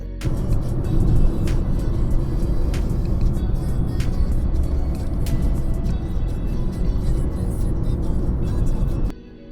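A car driving through the countryside on the road from Patas toward Daund, its steady engine and road rumble continuous and fairly loud throughout before cutting off sharply near the end.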